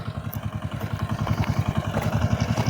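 A walk-behind tractor (motoblock) fitted with a plowing disc runs close by in a field with a steady, fast, chugging single-cylinder beat. The rhythm stays even throughout, with no voices.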